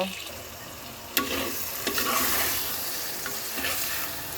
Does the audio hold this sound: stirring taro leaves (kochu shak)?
yes